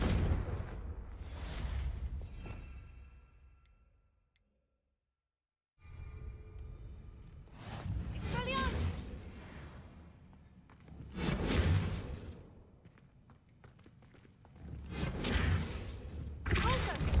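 Confringo spell blasts in Hogwarts Legacy, aimed at enchanted books, come as several swooshing bursts with crackling impacts, separated by a brief silence.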